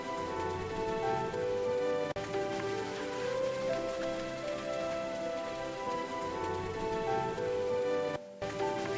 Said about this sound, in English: Okay, it's raining hard.